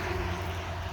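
An airplane passes overhead at an Okanagan winery, a faint, steady low droning hum that lasts only a moment.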